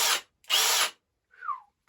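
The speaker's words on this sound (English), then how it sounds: "Okay, let's go into the drill mode." A Milwaukee Gen 3 drill in drill mode runs with a 1 1/8 inch spade bit, giving two short loud whirring bursts separated by silence, then a brief fainter whine that slides downward.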